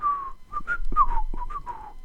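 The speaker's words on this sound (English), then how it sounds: "you're whistling the brain song?" A person whistles a short melodic tune, clear bright notes rising and falling with brief gaps between phrases, close and alone.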